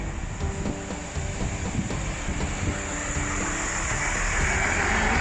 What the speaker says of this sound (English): this is our train to Banbury